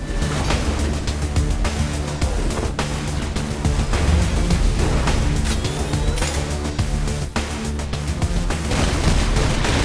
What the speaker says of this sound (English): now we're going to pull out one of our secret weapons, the White House turret